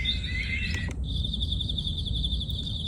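High, steady bird chirping from a LectroFan white noise machine repeats in a fast pulsing pattern over a constant low hiss, sounding looped and artificial.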